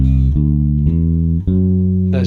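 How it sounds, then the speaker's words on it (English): A C Lydian scale, a major scale with a raised fourth, played as a run of sustained harmonic notes stepping upward, each attack clear and close, ending in a brief noisy burst. "C Lydian, which is a major scale with a sharp 4"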